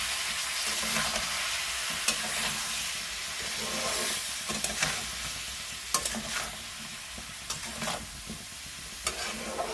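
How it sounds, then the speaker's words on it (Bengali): Spinach with shrimp sautéing in a pan, a steady close sizzle and hiss broken by scattered sharp clinks and scrapes of stirring, with no voices. "একটু জল দিয়ে এটাকে কষাবো।"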